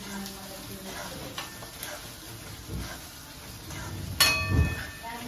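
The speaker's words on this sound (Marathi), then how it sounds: "कांदा हलवा." Onion stirred and frying in a pan in a home kitchen while poha is cooked, a soft sizzle with scattered scraping and clinking of the spoon, faint and close, with a sharper clatter near the end.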